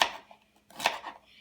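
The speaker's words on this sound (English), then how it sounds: "So now I'm going to cut up the celery." A kitchen knife chops celery for chicken noodle soup, giving a quick run of crisp, close cuts, then a short pause, then another cluster of sharp chops. No one speaks.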